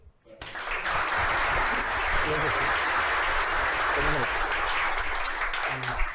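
Audience applause at a public conversation event, a dense wash of clapping that starts abruptly and holds steady, with some voices mixed in underneath.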